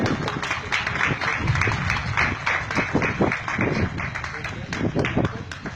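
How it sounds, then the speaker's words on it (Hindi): Audience applause at a public talk in Pakistan, dense and steady, filling the whole stretch with broadband clapping at fairly even loudness, with a voice mixed in. "तालियां।"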